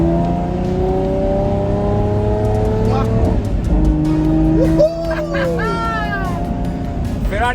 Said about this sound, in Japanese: なんか重く感じるんだけど、音が素晴らしい。 V12 サウンド、NA サウンド。